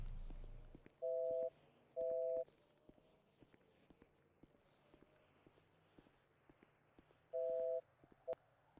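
Phone ringback tones beep in short steady bursts while calling Beço, two pulses early and another later, faint against quiet background shuffling.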